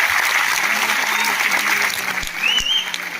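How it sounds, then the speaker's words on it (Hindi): An audience at a thank-you moment during a motivational talk gives loud, dense, steady applause that runs continuously throughout. "तो मैं एक बार जबरदस्त तालियों के साथ हमारे गुरुदेव श्री राकेश शर्मा जी का धन्यवाद करना चाहता हूँ।"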